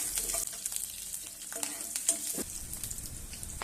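Green chillies and cloves sizzling in hot oil with urad dal while sautéing for rava upma, a steady crackling fry with occasional stirring scrapes close to the pan.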